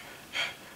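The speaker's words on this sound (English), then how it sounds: "Panting," A single short, breathy gasp of panting, soft and close, alone over a faint hiss.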